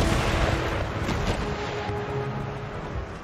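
Heavy cannon fire rolls through a naval battle in Empire: Total War, with the Knights of St John fighting the Russians. Dense, continuous booming and rumbling fills the scene alongside sustained low noise, with no voices over it.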